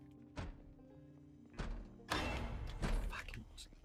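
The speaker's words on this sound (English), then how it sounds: "Yeah, the jump scare sound." A sudden jump-scare sting from the zombie survival game Project Zomboid, a loud thudding hit that swells into a dense, noisy burst with further heavy impacts, set against quiet in-game ambience.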